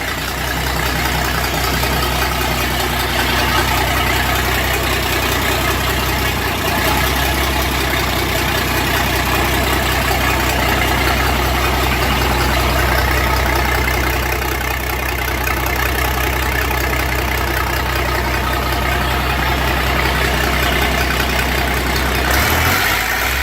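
A reassembled 1550 tractor engine idles steadily, a loud continuous low rumble with a constant drone throughout and no talking.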